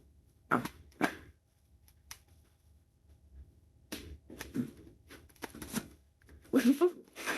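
Oracle cards being shuffled in a few sharp, close bursts of flicking and riffling separated by quiet gaps, with brief moments of faint speech.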